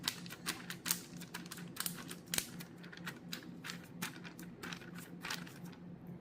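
Plastic bag being sealed one-handed while coating chicken wings, a run of faint close crinkles and clicking pinches, quiet and uneven over a few seconds.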